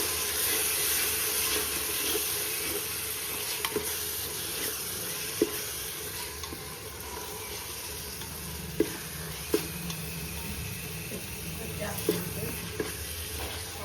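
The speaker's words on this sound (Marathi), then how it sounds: "आता आपण आला लसूणची पेस्ट टाकतं चांगली ढवळून घ्यायची" Garlic paste frying in a pan for pav bhaji, a continuous close sizzle and hiss broken by occasional spoon clinks and scrapes as it is stirred.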